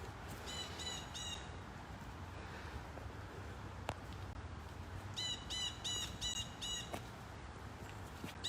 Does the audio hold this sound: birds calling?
yes